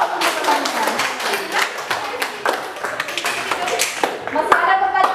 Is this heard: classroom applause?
yes